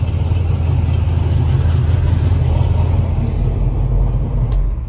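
A car's stroked 340 V8, built out to 418, idles loudly and steadily, a deep continuous rumble that holds unchanged from start to finish without any talking.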